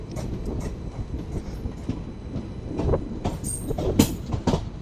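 A Nanded–Pune Express train at Ranjani railway station, with a steady rumble of wheels and carriages close by and sharp clicks and squeals rising now and then over the continuous rolling noise.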